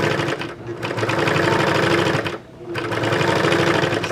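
A serger sewing machine finishes a garment seam with a loud, rapid mechanical whirr. It runs in close, sustained bursts, broken by two short pauses.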